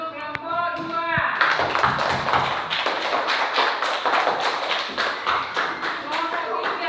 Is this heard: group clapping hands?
yes